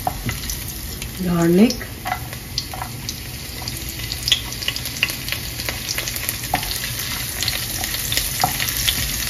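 Ginger and garlic sizzle and crackle in hot olive oil in a pan, a steady close frying hiss with occasional stirring scrapes while someone speaks briefly.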